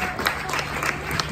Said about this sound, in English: A big round of applause from all.